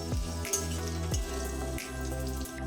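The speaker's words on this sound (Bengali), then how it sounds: "লবণ আর হলুদ গুঁড়ো আলুর সঙ্গে ভালো করে মিশিয়ে মিডিয়াম ফ্লেমে আলু গোল্ডেন করে ভেজে নেব।" Potatoes frying with salt and turmeric over a medium flame give a steady close crackling sizzle under a low tonal hum, with no talking.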